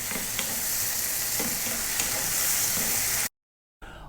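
Fresh tomatoes sizzle loudly and steadily in a pan for shakshouka as a spoon stirs them, the frying hiss continuous before cutting off abruptly near the end.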